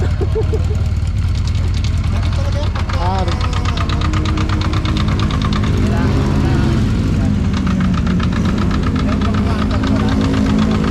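A Suzuki Sniper 155 motorcycle engine rumbles loudly, roughly and steadily close by, like a bulldozer, with a heavy knocking idle throughout and faint voices mixed underneath.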